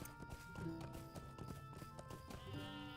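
Steady clip-clop of horse hooves at a trot in Lord of the Rings Online, rhythmic and mid-distance, over a busy bed of background music and ambience.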